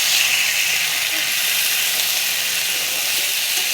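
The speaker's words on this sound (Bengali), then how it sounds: "কুমড়ো, আলু আর পটল দিয়ে সবজিটাকে ভাজবো।" Pumpkin, potato and pointed gourd fry together in hot oil after browned onions, giving a steady, dense sizzling hiss close by that holds evenly without a break.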